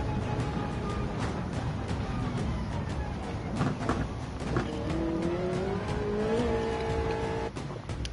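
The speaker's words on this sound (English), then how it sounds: "Car was a little unsettled and I smashed on the brakes." A race car in a racing video game runs with a steady engine drone, then the brakes are slammed hard and the tires squeal rising and falling, the squeal fading near the end.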